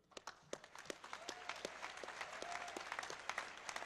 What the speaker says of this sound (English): the 2nd place team, who we should give a big round of applause to